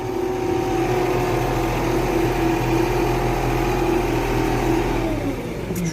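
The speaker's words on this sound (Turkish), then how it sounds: "Şurada biz traktörümüzü takviyeye geçirelim de." Tractor engine running steadily under load while pulling a fertilizer spreader across an alfalfa field with a wet creek crossing, a loud, continuous mid-pitched drone with no speech throughout.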